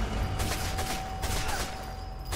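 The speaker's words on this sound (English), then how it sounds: "Some of the Germans may have heard those gunshots." A rapid burst of gunfire in the video game Sniper Elite 4, several sharp shots in quick succession over a low rumbling background, moderately loud.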